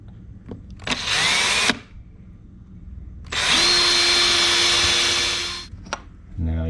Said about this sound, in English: I'm going to pre-drill all these holes